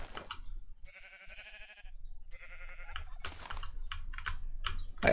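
Sheep in the Minecraft GregTech 6 game give two clear, wavering bleats in a row, with keyboard typing and mouse clicking close by between and after the calls.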